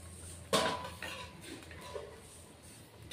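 A lid is set on a cooking pot of fish-head and pui shak curry, giving one sharp metallic clank followed by a few softer clinks and light rattles in a quiet kitchen.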